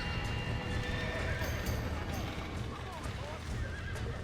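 Horses whinnying and neighing in the Red Dead Redemption video game, with hoof clip-clop and a steady ambient bed, while a player talks over the game sound.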